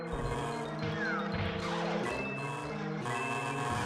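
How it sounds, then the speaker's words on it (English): A truck's reversing beeps sound through an open apartment window along with loud traffic outside, steady tonal beeps over a dense constant rumble of engines and road noise. "sorry if you're hearing loud vehicles outside, like, I've got my windows open"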